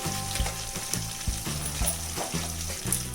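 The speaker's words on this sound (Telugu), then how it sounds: "ఆయిల్ అయితే వేడెక్కింది దాంట్లోకి వన్ టేబుల్ స్పూన్ జీలకర్ర ఆవాలు వేసుకుంటున్నాము" Cumin and mustard seeds sizzle and crackle steadily in hot oil in a pan, with soft rhythmic stirring knocks underneath, close and continuous.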